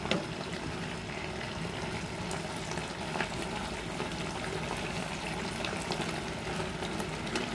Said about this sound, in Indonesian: Lalu kita masukkan telurnya. Kita aduk-aduk sampai bumbunya meresap.